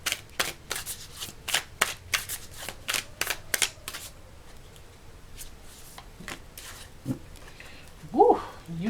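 Tarot cards shuffled by hand: quick bursts of riffling, papery clicks for about four seconds, then slower scattered card handling, with a brief faint vocal sound near the end.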